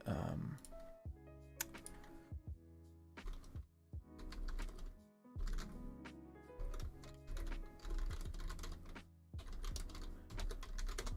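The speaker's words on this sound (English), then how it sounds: "So, I know that was a lot of typing." Keys clatter on a computer keyboard in irregular bursts of close, crisp clicks with short pauses, over a soft background tone.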